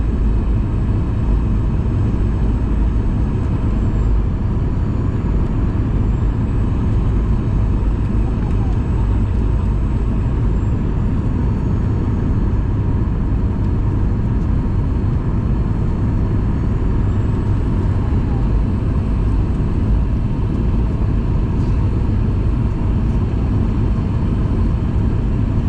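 A Southwest Airlines Boeing 737-800 landing at San Jose, California, a steady loud roar of jet engines and rushing air that holds level throughout, with radio talk from air traffic control over it.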